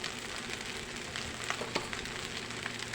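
Salt frying in a hot pan for a breakfast dish, a steady soft sizzle with small crackling pops, close and alone without talk.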